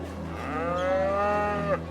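A cow in the video game I Am Jesus Christ lets out a single long, clear moo, loud and close, with a droning tone under it and no talking.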